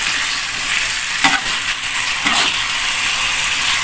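Leftover rendang being stirred as it fries in a pan: a steady, loud sizzle with two distinct scraping strokes of the utensil against the pan, and no voices.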